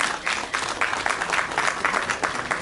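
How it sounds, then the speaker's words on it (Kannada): An audience claps loudly and steadily at the trailer launch for the film Click, a dense continuous burst of applause with no speech over it. "ಈ ಚಿತ್ರತಂಡಕ್ಕೆ ಆಶಿಸೋಣ ಒಂದು ಜೋರಾದ ಚಪ್ಪಾಳೆ ಮೂಲಕ"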